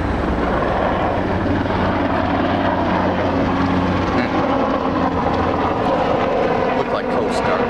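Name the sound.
helicopter flying overhead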